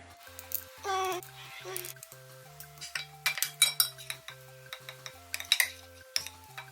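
Slime ingredients, glue with powder and glitter, being stirred in a bowl, giving sharp clinks and scrapes of a utensil against the bowl in quick irregular bursts, with a background hum and music tones; someone talks over parts.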